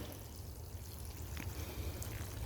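Water pours from a can onto container plants, a steady, close trickling splash that runs the whole time with no talk.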